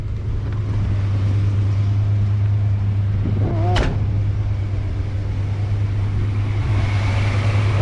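A steady, loud whirring hum of an overheating car's radiator cooling fans runs throughout, with a low engine drone and a brief squeak partway through.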